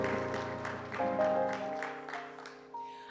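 Church congregation clapping hands in rhythm during a worship service, regular claps over sustained organ or keyboard chords, moderately quiet and fading toward the end.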